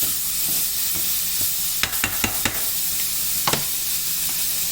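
Garlic and seared vegetables sizzle steadily in a hot pan, with a loud, continuous frying hiss and a few sharp clicks of stirring utensils close by.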